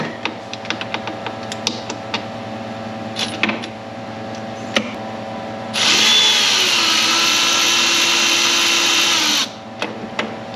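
Power drill or impact tool spinning out an 8mm bolt on the rear shock mount of a Thundercat Sidewinder snowmobile, a loud continuous whir of about four seconds between quieter clicks and handling noises.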